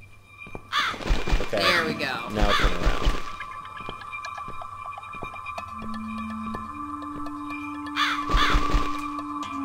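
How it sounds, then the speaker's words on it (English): A bird caws in the video game The Cat Lady, with a few harsh calls scattered among a person's speech, over a low ambient hum and a sustained tone. "There's the bird."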